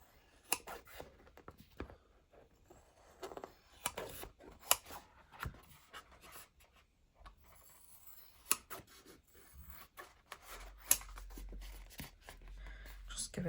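Scissors snip and rustle through a paper envelope craft piece in short, quiet cuts, with a voice talking intermittently over the work.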